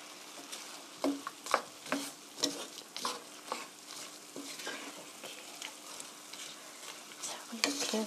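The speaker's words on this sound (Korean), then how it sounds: "고루 섞어주세요." Japchae ingredients, glass noodles and vegetables, being stirred and tossed together in a pan, soft sizzling under a rhythmic run of scraping and clattering stirring strokes, close and fairly quiet, with no voice.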